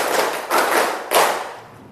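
A group's hands clap in a classroom ice-breaking game: three loud, sharp claps spaced roughly half a second apart, then fading away.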